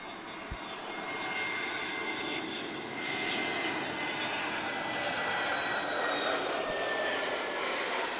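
An airliner on the runway at Lisbon Airport produces a steady, distant jet engine roar that swells slightly over several seconds, faint overall with a broad rushing tone and no talking.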